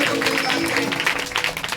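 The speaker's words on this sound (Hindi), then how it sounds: "जोर से ताली बजाओ।" Congregation in a church clapping steadily throughout, a dense continuous patter of applause with voices mixed in underneath.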